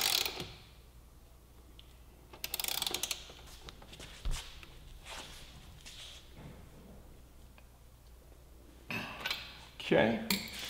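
Torque wrench tightening a rearset bolt on a 2015 Honda Grom motorcycle, with short bursts of metallic ratcheting clicks separated by quieter pauses while someone talks.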